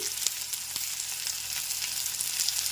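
Eggs frying in hot oil for a Telugu egg and drumstick curry, giving a steady close sizzle with soft crackles and occasional light pops throughout, no voices.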